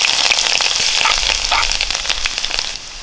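Ginger and garlic fry in coconut oil, giving a steady loud sizzle with a light crackle over it that eases off near the end.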